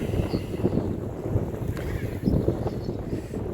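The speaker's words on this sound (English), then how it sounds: "guys can hear the water coming up" Water of Lake St. Clair lapping close beside a boat, a steady low wash with gusts of wind buffeting the microphone throughout.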